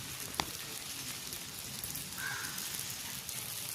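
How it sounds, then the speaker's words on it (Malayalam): Ivy gourd (kovakka) sautés with salt in a pan, giving a faint, steady hissing sizzle with an occasional soft clink, heard quietly and without talk. "നമ്മൾ കോവയ്ക്കും കൂടി ഇട്ടിട്ട് നന്നായിട്ട് ഒന്ന് വഴറ്റി ഉപ്പും കൂടി ചേർത്ത് കൊടുക്കാനായിട്ടുണ്ട്"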